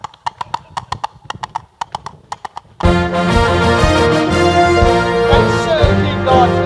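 Hooves clip-clop as a stage effect in a Spamalot theatre production: about a dozen crisp, evenly spaced clops, then loud orchestral music takes over.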